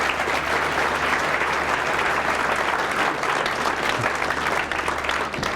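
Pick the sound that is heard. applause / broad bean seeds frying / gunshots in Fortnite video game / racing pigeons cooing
applause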